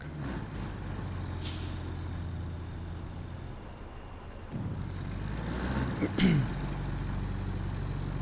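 An old truck in Roadcraft idles with a steady low engine rumble, punctuated by sharp hissing air brake releases, one early and another near the end.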